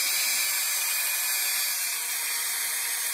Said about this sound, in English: So I use a drill